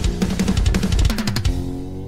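An unmixed heavy metal track with dense distorted guitars and pounding drums, loud and busy for about two seconds before a sustained chord rings out.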